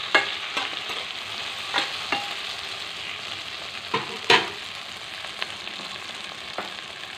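Grated beetroot frying in a pan for pickle, a steady close sizzle broken by a few sharp spatula taps and stirring scrapes, with a louder clack near the middle as cumin is added, no talking.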